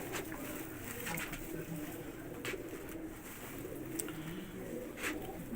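Pigeons coo steadily inside a loft during cold weather, a low continuous murmur of overlapping calls close by, with no voices.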